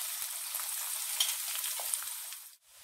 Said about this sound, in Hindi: अब मैं इसमें 2 बारीक कटे हुए प्याज डाल रही हूँ और इसे 3 से 4 मिनट तक भून